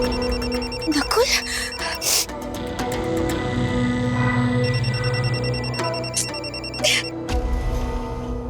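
A telephone rings repeatedly without being answered during a scene in an Indian TV drama, its bursts of ringing sitting over background music and ambience.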